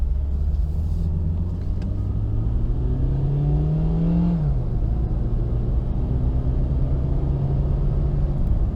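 A 2003 Toyota RAV4 L with a 4-speed automatic accelerating from inside the cabin: the engine drone rises steadily in pitch, drops sharply at a gear shift, then settles into a lower hum over steady road rumble.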